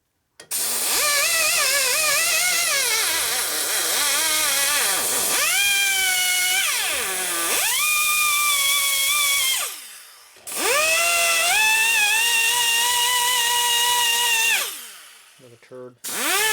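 Die grinder with a fine cutter smoothing a 1950 Harley-Davidson panhead rocker arm, a loud, close high-pitched whine rising and falling in pitch over several long runs with short breaks between them.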